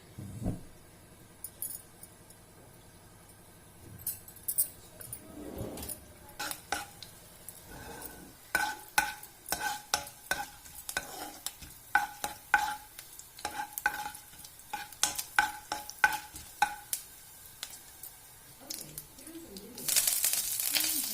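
Red chilli and garlic sizzle and fry in a pan, stirred with a utensil that gives repeated quick scrapes and metallic clinks against the pan throughout, growing busier toward the end.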